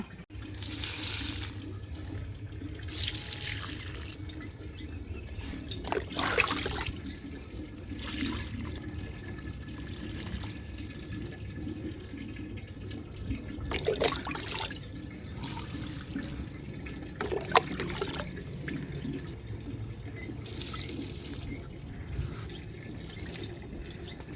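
Water runs steadily from a tap into a sink while rice water and curdled milk are readied as homemade organic plant fertilizer, with a continuous splashing flow and a few louder gushes.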